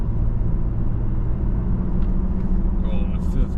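Engine of a Toyota Tacoma pickup with a manual transmission, heard from inside the cab while driving: a steady low rumble that holds even throughout, with a few faint higher sounds near the end.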